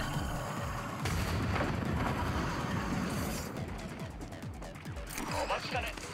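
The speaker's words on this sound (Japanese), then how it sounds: "フラグを投げる" A frag grenade detonating in Apex Legends, a loud booming blast followed by rumbling debris and scattered game noise, while players talk over the action.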